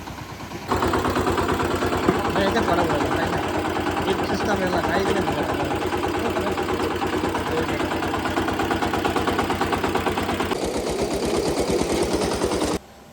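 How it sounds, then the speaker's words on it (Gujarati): A small tractor engine, used for puddling a rice paddy, runs steadily with a rapid, chugging rhythm, close and continuous, its tone shifting slightly near the end. "આ નાનું ટ્રેક્ટર છે આના વડે કાદવ તૈયાર કરીને"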